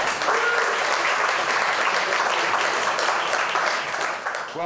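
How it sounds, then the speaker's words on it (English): Audience applause at a Republican primary kickoff event in Hickman, a dense, steady wash of many hands clapping throughout, fading slightly at the end. "let's give a round of applause to Tracy"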